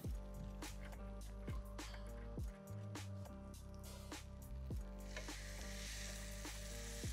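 French toast sticks fry in melted butter, a dense continuous sizzle with bursts of crackle and several sharp knocks and scrapes of a utensil against the pan, loud and close with no voices.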